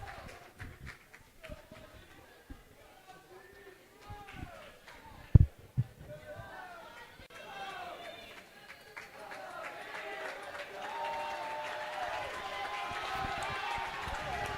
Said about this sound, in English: Crowd picks up the encouragement for him.